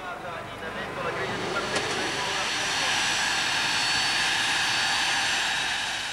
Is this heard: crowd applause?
no